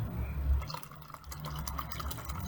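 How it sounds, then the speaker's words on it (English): Austin Eastciders Cherry Lime cider poured hard into a glass, a loud fizzing, splashing stream for about two seconds, close by with no talking. "The best thing about ciders is you can pour them as hard as you want."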